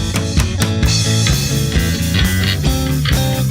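Bass guitar pulsing in tight rhythm with strummed guitar chords, steady and full, no voices.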